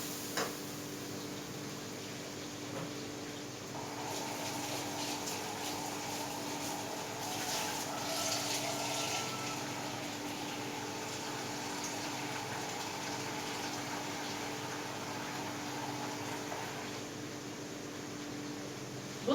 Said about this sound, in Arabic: نحط له بقى ايه الميه